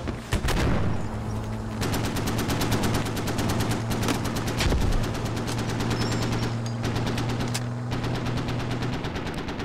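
Dense incoming gunfire in the Squad military shooter, rapid automatic bursts cracking nearly nonstop for the whole stretch over a steady low drone, loud and close with a few heavier impacts.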